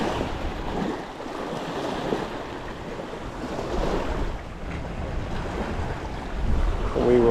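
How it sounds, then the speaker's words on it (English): Blustery wind buffets the microphone outdoors beside Cultus Lake in British Columbia, rising and falling in rough gusts with a constant rushing background, loud and close. "It is a windy day."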